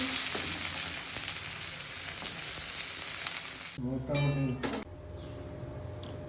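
Green chillies hit hot oil in a pan, giving a loud, steady crackling sizzle close by for several seconds, then a few metallic clinks and scraping sounds as the frying quiets.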